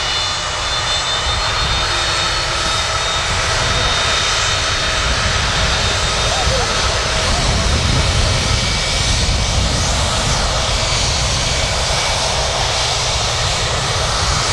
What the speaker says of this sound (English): Beautiful aircraft, 757.